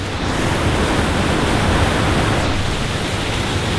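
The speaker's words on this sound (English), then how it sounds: "Just came down a little closer to the waterfall now." A loud, continuous roar of rushing water from a waterfall in the Columbia River Gorge, close by and unbroken.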